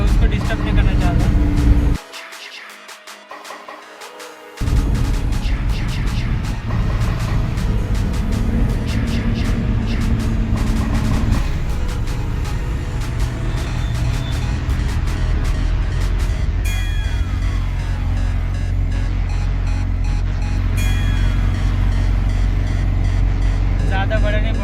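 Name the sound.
car driving along the Sinnar ghat road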